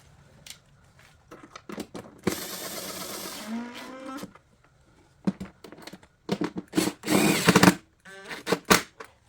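Cordless power tool driving screws into a plastic air filter cover on a Porsche engine, heard as a steady whirring burst followed by several shorter revving runs with brief pauses, close and fairly loud.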